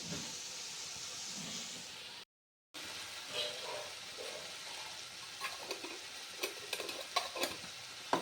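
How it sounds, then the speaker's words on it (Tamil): Vegetables sautéing in a pan for rava kichadi, a quiet continuous hiss and sizzle that cuts out briefly before scattered stirring clicks and scrapes pick up, with no speech. "கொஞ்சம் நல்லா வதங்கட்டும் காய்."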